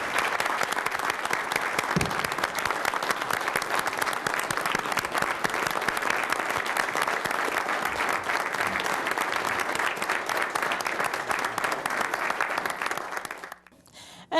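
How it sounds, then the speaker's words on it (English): A large crowd applauds firefighters of the Murfreesboro Fire and Rescue Department at a city event, dense steady clapping holding for about thirteen seconds before fading out abruptly near the end. "just to give them a round of applause for what they and all of our firefighters do for us every day"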